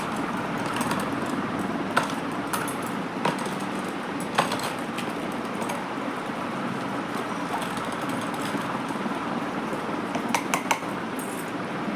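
Silver items being washed by hand in water, producing continuous splashing and rinsing with occasional light metallic clinks scattered through, close up and steady for the full duration.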